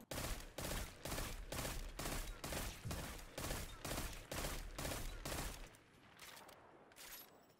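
The Magnum Shepherd kinetic pulse rifle fires in Destiny 2 in a steady, rhythmic series of loud, punchy bursts, each a quick cluster of shots, with softer, more scattered shots trailing off at the end.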